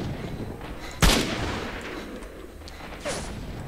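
A single sharp gunshot from S.T.A.L.K.E.R. rings out close and loud over a rumbling ambient background, followed a couple of seconds later by a fainter secondary sound.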